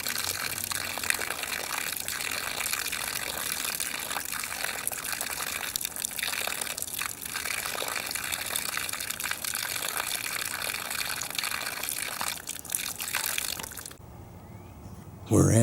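Lagoon water splashes and gushes onto a forming ice cone in a steady, loud rush that runs for most of the clip, then drops away near the end before a brief final burst.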